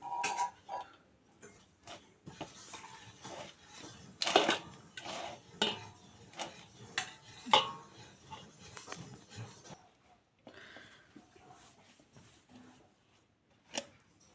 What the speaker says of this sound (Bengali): চাউলের গুঁড়ি বাজার পরে লামাইয়া গরম জল দিয়া এখন মাথাইরাম